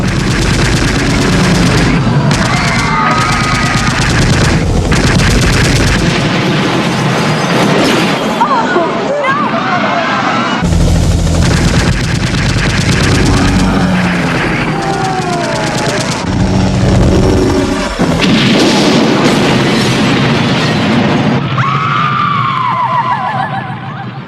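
Dense automatic gunfire in a radio drama, rapid bursts and booms fired on unarmed people, loud and nearly continuous beneath shouting voices, with heavy engine and rotor noise.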